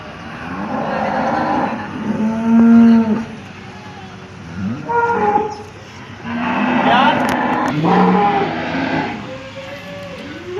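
Cows low repeatedly at a busy cattle market in Loni, several drawn-out moos rising over a constant crowd murmur and background noise.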